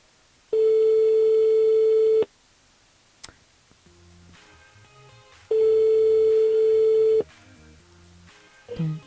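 A telephone line rings out on a radio show's call-in switchboard, two long steady electronic tones separated by a pause, loud and close, with soft clicks between them.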